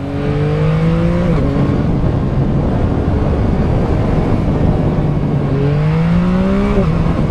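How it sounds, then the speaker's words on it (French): A 2021 Yamaha MT-09 roadster accelerates hard, its engine note climbing loud and close, with quickshifter ignition cuts on the upshifts near the start and end; the exhaust has an outlet on each side. "au passage de vitesse tu as une coupure à l'allumage et cet échappement en fait qui a une sortie de chaque côté, il fait une super sonorité"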